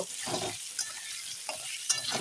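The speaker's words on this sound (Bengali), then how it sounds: "এখন নেড়ে ভেজে নিচ্ছি" Potatoes frying in a pan with a soft steady sizzle, broken by a few scraping bursts of stirring. Close and fairly quiet, no voices.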